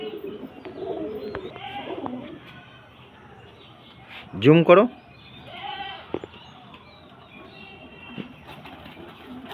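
Fancy pure-bred pigeons at a home loft give one brief, loud cooing burst near the middle, with a few softer calls around it. Someone talks through most of the clip.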